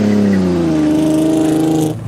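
A car engine revs loudly and steadily with clutch trouble in a Top Gear driving segment, its pitch sliding slightly before the revs drop away abruptly near the end.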